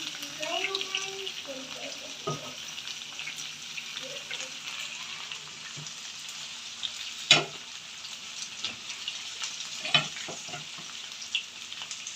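Sliced okra frying in ghee in a pan gives a soft, steady sizzle, with occasional clinks and scrapes of a spatula and faint background voice near the start.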